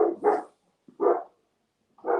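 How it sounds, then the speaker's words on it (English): A dog barks three times in short, gruff bursts, fairly close and clear, with quiet gaps between them. "So that's my dog barking at nothing because he's stupid."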